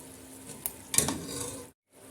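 Mutton being stirred as it fries in a pot for mutton pulao, a soft sizzle under a few scraping stirs of the spoon, with one louder scrape near the middle before the sound cuts off abruptly.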